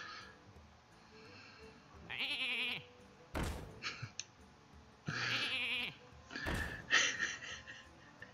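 Sheep bleat in the Hearthstone video game, two short electronic bleats separated by sharp clicks and card sound effects, clear and close.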